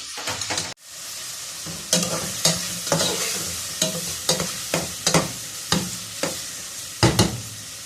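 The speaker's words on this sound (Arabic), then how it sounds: "هنزل بصله واحده اشوحها معاها برضو" Onion and chicken gizzards sizzle in a hot pan, with a steady fry and regular scraping stirs that come about every half second after a brief pause at the start.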